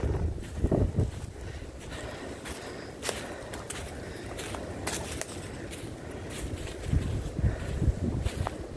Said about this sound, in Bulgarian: Голям вятър. Това е ужас.